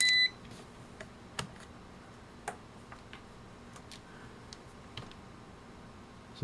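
A meter in continuity-test mode gives a short, bright beep at the start, followed by quiet scattered ticks and clicks from handling a homemade ESD gun setup.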